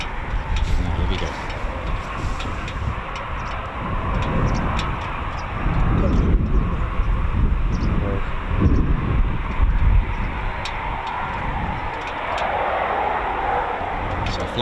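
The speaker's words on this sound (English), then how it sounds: "So flight of 2 from 11 Fighter Squadron, the oldest dedicated fighter squadron." A flight of two RAF Typhoon fighter jets from 11 Fighter Squadron flies a display over Coningsby, a broad roaring rumble that swells and holds steady throughout, with voices talking over it.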